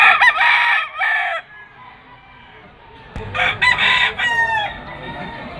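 Roosters and chickens for sale at a busy street market (tiangge) in Malabon crow loudly and nearby in two bursts, a double crow at the start and a fuller cluster of crows after a pause of quieter market background.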